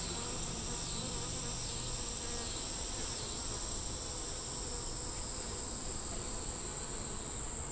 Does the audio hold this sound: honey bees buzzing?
yes